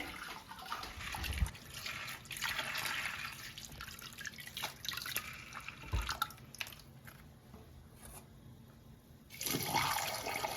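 Food is rinsed under running water, with a faint, steady trickle, scattered drips and a brief louder splash near the end.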